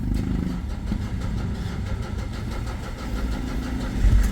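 A Ford Everest WL engine, just repaired after injector and fuel pump work, runs at a steady low idle, its dense rumble continuous and close with a slight bump near the end.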